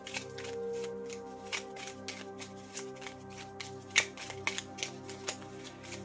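Oracle cards being shuffled close up, a soft run of rapid papery riffles and taps with a few sharper snaps, quiet and steady without speech.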